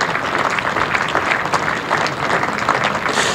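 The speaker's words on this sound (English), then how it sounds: "the applause you can hear is for the Durham debutant Rachin Ravindra, who has just been dismissed" Steady, moderately loud applause from a county cricket crowd at Durham versus Worcestershire, greeting a dismissed debutant batsman, with continuous dense clapping that spreads evenly across the whole stretch and no voices over it.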